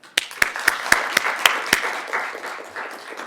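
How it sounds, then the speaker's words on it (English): Light, scattered applause from a small audience at the close of an academic health law event, a handful of sharp claps at first, then thinning into a softer patter. "A big round of applause for them."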